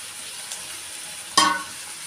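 Tomatoes drop into a pan of sautéed mint for prawn biryani, giving a sudden loud burst of sizzling that then fades back to a soft steady frying hiss, with a faint earlier clink.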